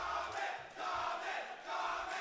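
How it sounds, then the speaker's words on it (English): A crowd at a fighting game tournament venue chants in rhythmic pulsing waves, loud and sustained, several surges in quick succession. "The chant from Here the crowd."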